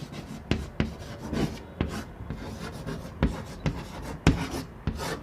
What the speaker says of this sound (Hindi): तो यहां पर मैं लिख देता हूं